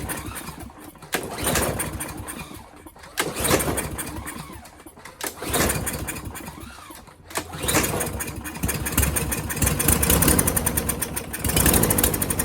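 A Husqvarna lawn mower with a Briggs and Stratton engine, fitted with a fresh spark plug after starting trouble, is pulled and sputters into rough, surging running, with revs rising and dipping over several seconds and brief dropouts between bursts.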